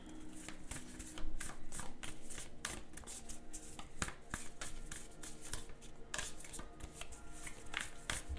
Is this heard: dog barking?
no